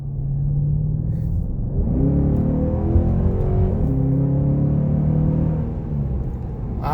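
Dodge Durango R/T fitted with a Jet Xcelerator and a performance chip, its engine revving up and down in steady waves with a deep, close rumble and no talk.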